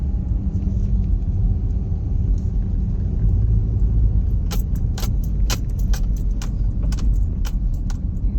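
Steady road traffic rumble from cars, trailers and lorries on a road under construction near a junction, continuous and fairly loud, with a series of sharp clinking transients in the latter half.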